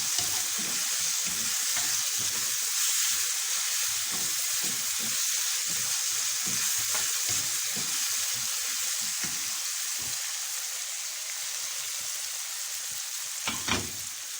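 Onion and chicken fry in a pan with a steady, close sizzle, broken by irregular scraping and stirring clicks throughout and a brief louder clatter near the end.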